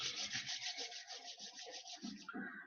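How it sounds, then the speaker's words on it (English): Hands rubbing briskly together during a guided meditation, a continuous close, loud swishing friction with a steady back-and-forth pulse that eases off near the end. "Slowly fold your hands, rub it across"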